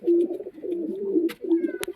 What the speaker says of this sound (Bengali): ফুলশিরা লাইনের মাদি পায়রা